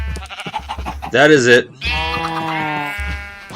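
A Minecraft sheep lets out one wavering bleat between stretches of someone talking, close and clear.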